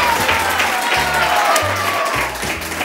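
Studio audience applause on a variety TV show, a loud dense burst of clapping from a crowd that stays steady for a few seconds while low stepped music tones play underneath.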